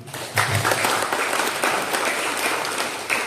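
A crowd claps steadily and loudly throughout, a dense wash of applause at a send-off ceremony for Islamic boarding-school students departing for Makkah, with the deputy mayor of Sukabumi present.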